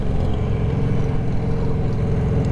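A 2023 Yamaha MT-09 SP motorcycle engine on city streets, a continuous loud, close rumble with steady wind and road noise while riding.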